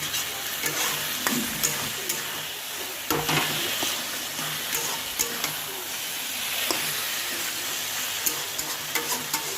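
Taro leaves (kochu shak) being stirred in a pan, a continuous close sizzle and hiss broken by frequent light scrapes and taps of the spoon against the pan.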